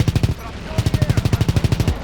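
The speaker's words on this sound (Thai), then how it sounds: "เพื่อนเรากำลังไล่ยิงอยู่" Rapid automatic gunfire from a World War II trench battle in the shooter Call of Duty: WWII, a steady burst of evenly spaced shots that pauses briefly before resuming, loud and close.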